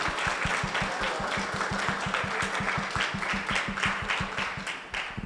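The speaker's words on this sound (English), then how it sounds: "So I want you to start off with the most amazing round of applause for ShazaCin, Shakila, and the team." An audience at a technology and AI panel symposium breaks into a sustained round of applause, dense steady clapping filling the whole stretch at even loudness, with no talk over it.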